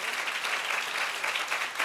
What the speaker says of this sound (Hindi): ये जोरदार तालियां बनती हैं।